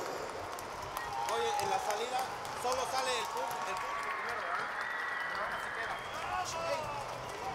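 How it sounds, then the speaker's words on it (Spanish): A large audience applauds at a wind band concert in the Guelaguetza auditorium in Oaxaca, a broad sustained roar of clapping from a distance with crowd murmur, while someone speaks over it on a public address system. "el aplauso y el reconocimiento, la admiración de este público que se ha concentrado en este auditorio Guelaguetza."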